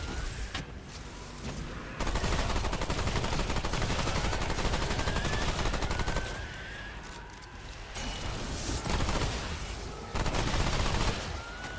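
Sustained rapid gunfire from a player's weapon in Remnant 2 combat, loud and nearly continuous, with short pauses between long volleys.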